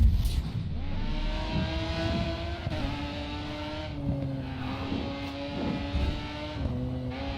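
Formula One race car engine in the racing video game Grid 2, a steady high-pitched whine that shifts with gear changes throughout, with faint tire noise underneath.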